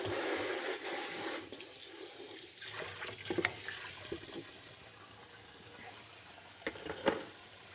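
Tap water runs into a container while greens are washed, a steady gushing stream with brief clatters of handling; speech is faint in places.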